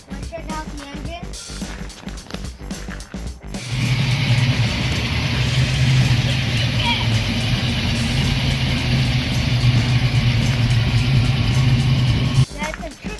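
A Ford Mustang engine fitted with Trick Flow parts runs with a steady, loud rumble after a few seconds of clattering handling noise, holding a continuous idle that cuts off abruptly near the end.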